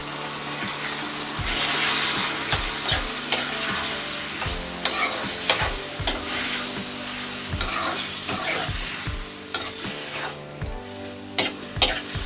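Squid, Mangalore fry style, sizzles and bubbles in its own released water in a pan, with a continuous wet hiss and regular knocking stirs of a spoon against the pan throughout.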